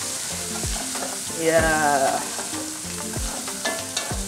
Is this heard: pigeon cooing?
no